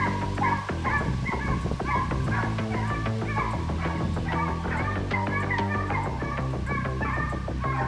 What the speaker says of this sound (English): So I can feel the dogs barking.